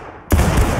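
A musket volley fired on command in the Civil War game War of Rights, one sudden loud crash of massed rifle shots bursting out of near silence and ringing on with a rolling echo.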